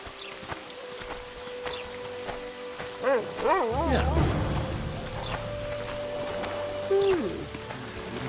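Steady rain patters throughout in the video game The Witcher 2: Assassins of Kings, under muffled voices and background activity, with a low rumble partway through.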